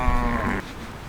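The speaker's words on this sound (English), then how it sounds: "Hello, sheeps." A sheep on a farm bleats once, a loud close harmonic cry lasting about half a second, then fades into quiet outdoor background.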